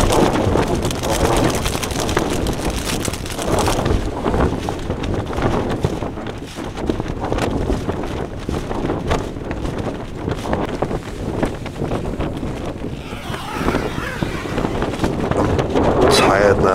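Gale-force wind buffets a hillside campsite in the Peak District, a continuous loud roar of gusts across the microphone lasting throughout, with a voice speaking underneath.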